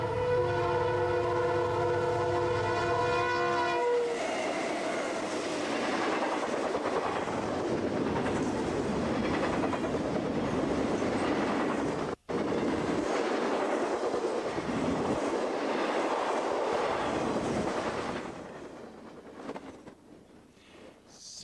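Southbound Union Pacific freight train passing at speed beside the Mississippi River, opening with a loud sustained horn blast, then a steady roar of rolling cars and wheel clatter that fades away at the end.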